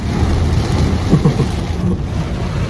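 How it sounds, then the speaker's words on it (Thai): Heavy rain pours down at an auto repair garage, a loud, steady, close roar that fills the whole span with no voices. "ฝนตกหนักมากเลยนะ"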